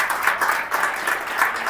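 A church congregation bursts into steady applause for Jesus, a dense, continuous wash of many hands clapping that swells and dips slightly over a couple of seconds, with no voices standing out.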